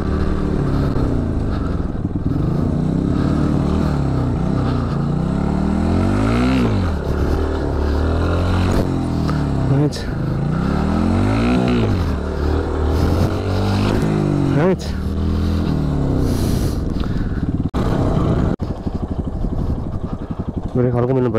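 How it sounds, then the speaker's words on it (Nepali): A motorcycle engine revs repeatedly during wheelie and stoppie practice on a lockdown day, rising and falling in pitch with loud, close throttle bursts, and people talk over it. "बाइक कुदेको आज लकडाउन दिनमा"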